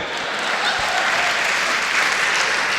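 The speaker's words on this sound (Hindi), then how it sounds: "ये वही लोग ताली बजा रहे हैं" A large audience at a Hindi comic poetry gathering (kavi sammelan) breaks into applause, a thick, continuous wash of clapping from many hands that holds at an even, loud level throughout.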